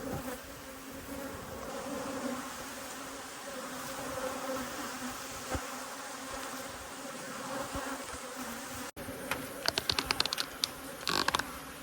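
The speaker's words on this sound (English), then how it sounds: "Give these bees room." Honeybees hum densely around frames pulled from a busy colony during a strong nectar flow, a close, continuous buzzing drone, followed near the end by clicking, clattering sounds from handling the wooden frames.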